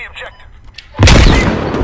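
In the video game Squad, after a quieter second, a sudden loud explosion bursts in, its booming, crackling rumble holding strong until the end.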